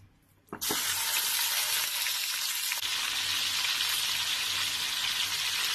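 Raw chicken hits whole garam masala already hot in the pan for a korma. After a brief quiet moment it breaks into a loud, steady, hissing sizzle that continues to the end.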